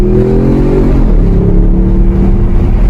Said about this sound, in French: On va aller faire juste la petite accélération sur la piste d'essai